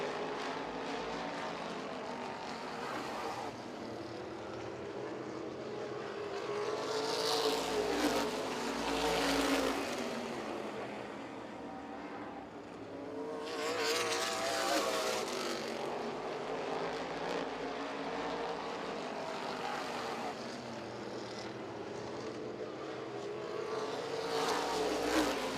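Race cars circle a short oval track in a Laps & Legends feature, their engines rising and fading in repeated passes at a distance, a steady far-off drone with louder swells as the pack goes by.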